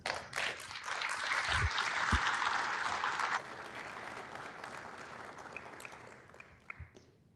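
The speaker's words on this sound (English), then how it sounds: "Let's give him a round of applause." An audience applauds at a city council meeting in Norwalk, steady clapping from a room of people that swells, holds for several seconds, then thins to scattered claps and fades.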